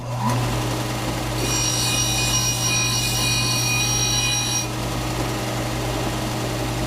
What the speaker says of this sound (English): So I'm at the disc sander here. Going to just do a little sanding.